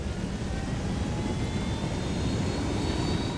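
Helicopter in the Ghost Recon Wildlands video game, a loud steady engine and rotor roar running continuously without speech.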